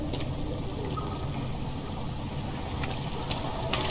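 Continuous watery sloshing and trickling from creatures moving through water in the horror game Amnesia: The Dark Descent, a steady low churning with a few faint splashy clicks, no voices.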